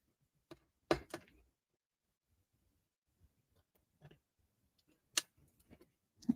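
A few brisk snips of scissors cutting a skinny strip of paper for a card's tail, sharp isolated clips at the start and again near the end with quiet handling between.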